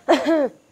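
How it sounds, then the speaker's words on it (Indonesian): One short, harsh cough close by, rising quickly and fading in under a second. "Siapa itu yang batuk?"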